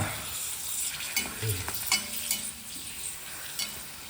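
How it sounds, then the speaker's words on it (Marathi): Tube-shaped nalya wafers roasting in a pan produce soft crackles, scrapes and light clinks at close range, fairly quiet and uneven, with no speech. "आपण आता भाजत आहोत नळ्या"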